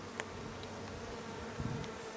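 Honey bees crowd into the entrance hole of a New England hive in September, a steady close buzzing drone with a few louder passing wingbeats.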